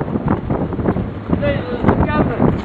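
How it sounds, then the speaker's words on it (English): Gusty wind at an outdoor rally buffets the microphone in uneven low thumps and rushes, with a person speaking over the noise. "It's getting windy."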